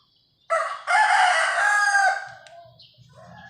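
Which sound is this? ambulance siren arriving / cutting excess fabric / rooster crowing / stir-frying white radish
rooster crowing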